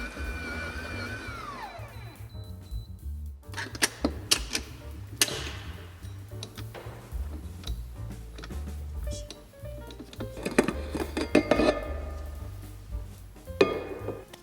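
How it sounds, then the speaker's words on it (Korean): A Blanz stand mixer kneads bread dough for peanut butter cream bread on its automatic kneading setting, giving a steady low motor hum with scattered ticks and clinks from the bowl and hook, fairly quiet, without talk. "저는 블랑즈 반죽기를 사용해서 자동 반죽 기능으로 반죽해 줬어요"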